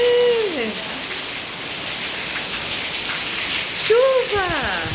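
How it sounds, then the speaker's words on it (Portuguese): Rain falls outdoors with dripping from a roof leak, a loud, constant close hiss of drops on surfaces, while brief high voices sound over it at the start and near the end. "Essa goteira aqui, aí o barulho e a água ali tá chamando a atenção dela."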